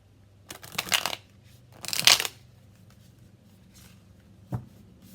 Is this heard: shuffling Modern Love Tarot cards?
yes